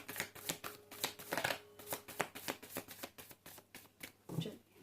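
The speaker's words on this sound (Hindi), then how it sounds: "This is my last shuffle, किसी को आना है आ सकते हैं।" Tarot cards being shuffled by hand during a reading, a steady run of quick papery riffles and flicks repeating close up for several seconds with no talking.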